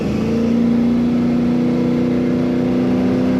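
A 1955 Chevrolet Bel Air engine hums at a steady, loud idle-like rev, a sustained close-up drone with no talking.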